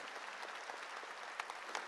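A church congregation claps during a Korean sermon, a short burst of mid-distance applause with a few sharper claps near the end.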